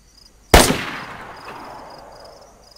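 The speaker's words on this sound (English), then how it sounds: "Just fire a shot and then see if we hear it." A single loud gunshot in the video game DayZ cracks sharply, then rings out in a long fading echo over a quiet background.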